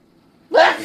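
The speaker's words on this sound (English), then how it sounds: "Gesundheit." A single sharp, close sneeze from someone suffering allergies bursts out after near silence, loud and abrupt with a breathy tail.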